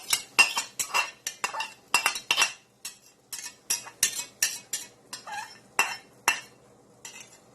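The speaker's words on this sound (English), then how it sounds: "And here goes my egg. Let's scramble that up for a couple of minutes." Eggs being scrambled in a hot pan with bacon grease: a steady run of sharp utensil scrapes and clinks against the pan, roughly two or three strokes per second, close and clear with no talking.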